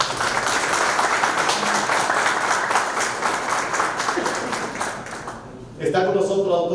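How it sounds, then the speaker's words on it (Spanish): A crowd applauds steadily for several seconds at a university panel discussion on corruption, dense clapping that thins briefly before a voice cuts in. "en el día de hoy yo pido un fuerte aplauso"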